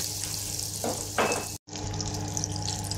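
Butter melting and frying in plenty of hot oil for chicken adobo flakes, a steady close sizzle with brief louder bursts as it hits the pan and one short dropout.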